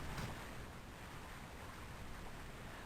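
Rushing water from a waterfall in the video game Castlevania: Aria of Sorrow, a steady, broad wash of noise that holds at an even level throughout with no talk over it.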